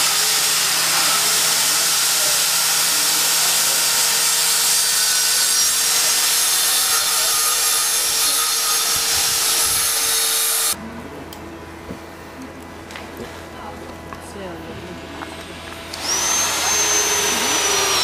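A power sander grinds steadily across a laminated wood surface while building experimental urban furniture, a loud continuous whine and rasp that drops to a lower, quieter tone for a few seconds before returning full.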